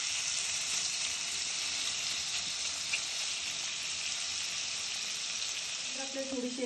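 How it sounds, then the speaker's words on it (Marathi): Paneer slices fry in butter in a pan with a steady, close sizzle that runs the whole time, and a brief faint tone comes in near the end. "आपल्याला पनीरचे स्लाइस ॲड करून घ्यायचे, आपल्याला पनीर थोडंसं फ्राय करून घ्यायचं आहे"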